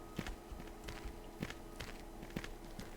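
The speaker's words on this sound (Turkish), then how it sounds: "Ayak seslerimizden korkuyorum dur." Footsteps from a Garry's Mod horror map video game fall in a steady walking rhythm, soft, close and evenly spaced, with no other sound over them.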